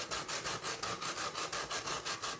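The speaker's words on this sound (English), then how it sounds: "Meanwhile, we grate the bread and cheese and mince the dill." Bread and cheese are grated by hand for an ancient Greek stew, a close, steady run of rhythmic scraping strokes repeating evenly with no voices.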